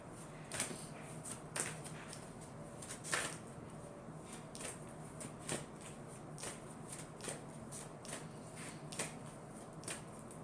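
Tarot cards being shuffled by hand close up, a soft repeated riffle and tap recurring at a steady rhythm, quiet and alone.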